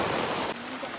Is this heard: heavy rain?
yes